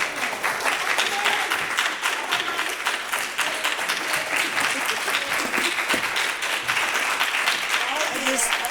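An audience at an awards ceremony applauds with sustained, dense clapping from a sizeable crowd, steady and fairly close, holding for the whole stretch without fading.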